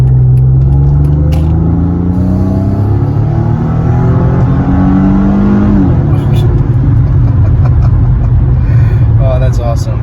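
A supercharged Mercedes C32 AMG accelerates hard, engine note climbing loud and close through a long pull before a shift and renewed rising drone, with an excited voice talking over it.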